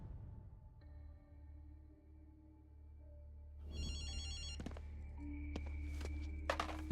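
A telephone begins ringing partway through with repeated electronic trills over a low hum, followed by a few soft thunks and taps nearby.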